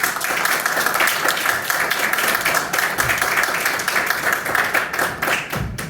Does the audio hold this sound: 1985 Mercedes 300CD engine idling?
no